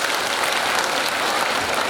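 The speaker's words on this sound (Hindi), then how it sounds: "आप सबको एक बार जोरदार तालियां बजा दीजिए अपने बच्चों के लिए।" Parents in the audience at a school annual function clap together in a loud, dense, continuous burst of applause that holds steady for about two seconds, with no voices over it.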